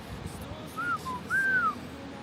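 Someone attempts to whistle, producing a couple of thin, wavering, breathy whistled notes rising and falling over quiet background noise, without steady pitch.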